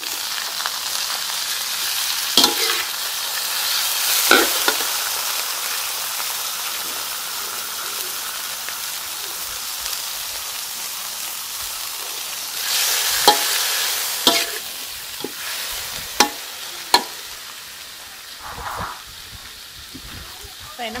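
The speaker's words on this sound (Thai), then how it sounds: "แล้วก็ผัดพริกกระเทียมให้หอมนะคะ แล้วก็เทผักกูดลงไปเลย" Vegetable fern is stir-fried in a pan with chili and garlic: a loud, continuous hiss like rain, broken by sharp utensil clacks, while someone talks over it at times.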